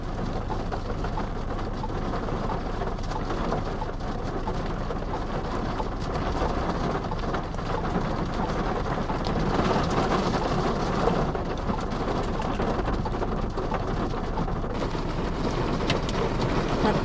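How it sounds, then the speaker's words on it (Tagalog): Heavy rain pours steadily with thunder rumbling low throughout, a dense continuous roar with no break, heard during a downpour outdoors. "Ang lakas ng ulan."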